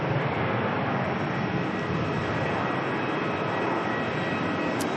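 A Jetstar airliner departing for Sydney gives a steady, loud, broadband jet roar that holds evenly throughout with no talk over it.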